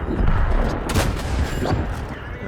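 Heavy booming tank gunfire in World of Tanks-style battle on the Murovanka map rumbles loud and continuous, with a sharp blast near the middle.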